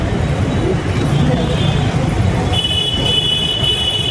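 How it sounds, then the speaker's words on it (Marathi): Dense road traffic rumbles and hums constantly around a speaker talking, with engines droning and a high whine near the end. "ट्रॅफिक फार भयंकर आहे"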